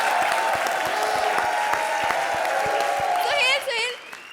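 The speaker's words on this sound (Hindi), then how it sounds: "तो भी ठोको ताली, देख क्या रहे हो?" Studio audience at the Comedy Circus show applauds steadily and loudly, with dense, continuous clapping under a tonal backing before it fades and a voice begins to speak.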